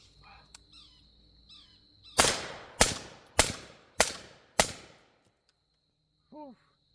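Five suppressed shots from a rifle firing subsonic 300 Blackout rounds, each a sharp, fairly loud crack with a short decay, spaced about half a second apart, followed by quiet and a faint bird call.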